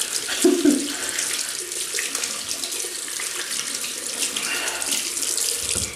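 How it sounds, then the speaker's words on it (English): Hands rinsed under a running tap: a steady, close rush of water with brief splashing as the hands move under the stream, continuous for six seconds. "I'm gonna rinse my hands"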